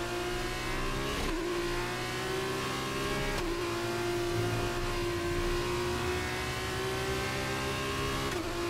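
F2 race car in the F1 23 racing game at the France track, its engine holding a loud, steady high drone with brief dips at gear changes, continuous and close throughout.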